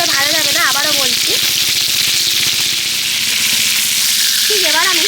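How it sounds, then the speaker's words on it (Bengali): Prawns frying in oil in a pan make a loud, steady sizzle throughout, with a voice speaking over it at the start and end. "কড়া করে ভাজবো না, জাস্ট এপার ওপার একটু করে উল্টে নেবো আর তুলে নেব।"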